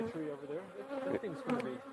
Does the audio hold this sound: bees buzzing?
yes